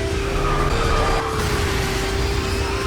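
A car drifts in a racing video game with a sustained tire skid, a long steady squeal that holds over a droning engine for nearly three seconds.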